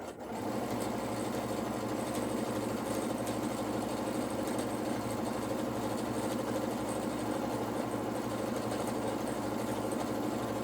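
A PFAFF Creative Ambition 640 sewing machine hums at a steady, even pace throughout, free motion quilting with no pauses and no voices.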